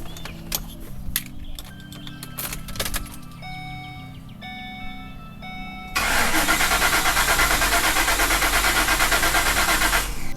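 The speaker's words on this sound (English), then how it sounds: "Let's see if we get some type of fuel pump noise." Van ignition key turned while checking the fuel pump after a fuse swap: a few quiet electronic chime tones, then from about six seconds a loud, steady broadband mechanical whir that runs to the end, with no talking.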